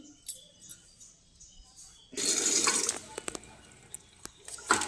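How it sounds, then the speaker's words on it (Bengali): Cut potatoes being washed in water: a quiet start, then a sudden burst of splashing and sloshing about halfway through with clinking knocks against the container, close by. "তো আলুগুলো এবার ধুয়ে নিই।"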